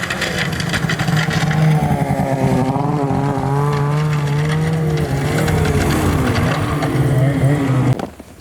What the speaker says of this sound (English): now it's 10:30 and we're gonna go ride snowmobiles